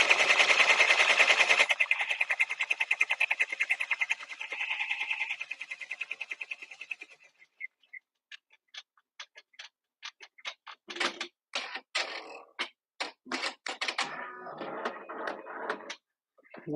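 A sewing machine stitches a white fabric applique, starting as a loud steady whir for several seconds, then stopping and giving way to short irregular bursts of stitching and clicks, with no talk.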